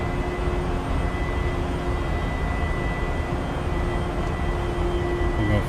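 An FSS Embraer E190 jet in Microsoft Flight Simulator climbs out after departure. Its engines make a steady, loud, unbroken roar with faint whining tones, with no voices.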